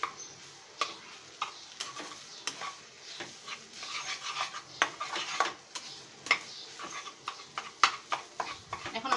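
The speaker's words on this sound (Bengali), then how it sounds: "কাজ হচ্ছে খুব ভালো করে ডিমটাকে নুডলসের সাথে মিশিয়ে নেওয়া।" Egg being stirred and tossed through noodles in a hot pan, with repeated scraping utensil strokes against the metal and a soft sizzle underneath, close and irregular.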